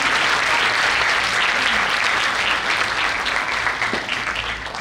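A large audience at a Christmas celebration gives loud, sustained applause after a presentation. Many hands clap in a thick, even roar that eases slightly toward the end.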